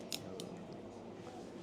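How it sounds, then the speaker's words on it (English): Scissors cut through a pizza at a pizzeria, giving a couple of short, crisp snips near the start over steady room noise. "pizza you can only cut with the scissors"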